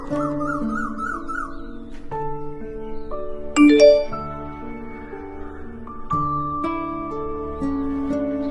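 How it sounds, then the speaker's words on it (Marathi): A bright chime-like ding rings out amid soft tonal music, one short louder chime standing out near the middle. "कोणाचा तरी मेसेज आलाय बघ"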